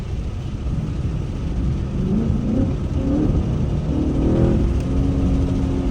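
A Ford Mustang GT S650 engine revs during a manual-mode downshift, a mid-pitched rising and falling engine note heard from inside the car, steady and moderately loud with no talk.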